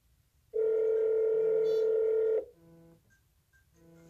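An Alpina AlpinerX smartwatch sounds a loud, steady electronic notification beep lasting about two seconds, followed by a softer series of shorter tonal chimes in a quiet room.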